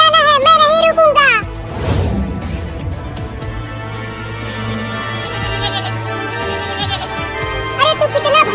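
A young goat kid bleats in a cartoon comedy, with a quavering high cry at the start and again near the end. Music and other sounds fill the middle.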